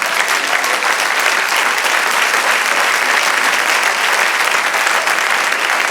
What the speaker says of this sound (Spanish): Denle aplauso.